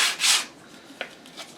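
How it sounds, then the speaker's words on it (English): Sandpaper rubs over cut wood edges of a custom Catan game board to remove burrs, a couple of short close scratchy strokes followed by faint light taps. "Just sanding off some of the burrs from cutting."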